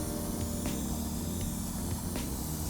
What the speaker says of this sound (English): don't be afraid to get in quite close with the nozzle and keep spraying